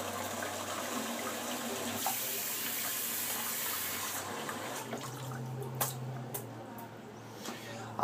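Tap water runs steadily to wet a shaving brush at a sink, a close, continuous rush that thins into trickles and scattered drips toward the end.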